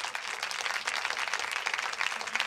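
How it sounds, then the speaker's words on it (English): An audience at a basement comedy show applauds, a short burst of steady, fairly faint clapping from a small crowd. "Wow, you're getting a lot of applause tonight."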